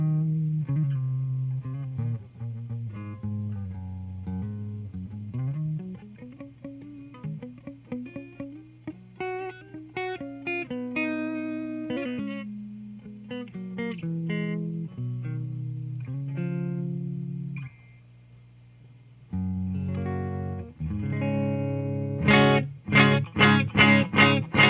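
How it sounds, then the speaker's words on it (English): Gibson LPJ electric guitar plugged straight into a Fender '68 Custom Deluxe Reverb reissue amp with only its built-in reverb, playing clean melodic lines and bends, pausing briefly, then ending on rhythmic strummed chords. "So this has been just a naked amp with, you know, its own reverb."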